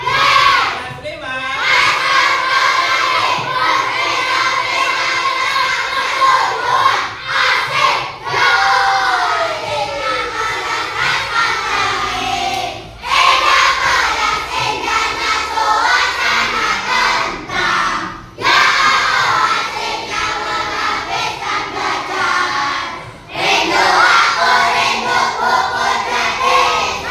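A class of fifth-grade primary school children performs a spirited clap chant, loud rhythmic group shouting and clapping in bursts with brief pauses between phrases, filling the room.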